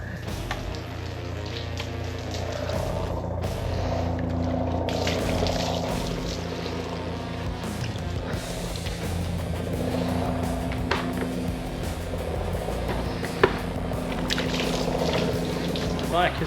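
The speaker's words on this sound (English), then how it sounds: "So I'm gonna give the bike a quick wash and clean and let it dry" Water sprays and splashes over a Honda Rebel motorcycle during a quick wash, a steady rushing hiss with shifting intensity and occasional knocks, close by, while a person talks over it.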